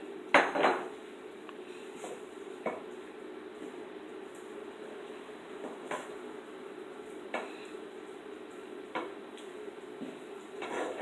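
Cooked pumpkin and carrot get mixed into a meatless vegetable stew, with a spoon clinking against the pot in scattered, fairly quiet taps and scrapes over a low background hum.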